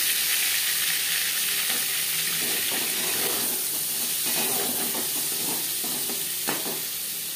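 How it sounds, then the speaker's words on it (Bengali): Paneer fries lightly in oil in a wok with a continuous sizzle and faint stirring scrapes, heard alone with no voices. "পনির আমি হালকা করে ভেজে নেব।"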